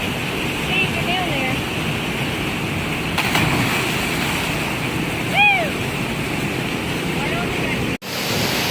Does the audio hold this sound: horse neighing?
no